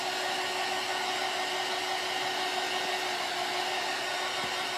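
A heat tool blows steadily while drying paint on a craft jar lantern, a constant airy whoosh with a faint motor hum, close and unchanging, with no talking.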